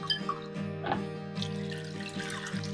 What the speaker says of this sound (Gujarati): હવે 2 વખત આપણે પાણીથી તેને ધોઈ લઈએ.